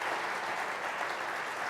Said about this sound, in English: Let's give Annie and Laura a round of applause for what their disclosures are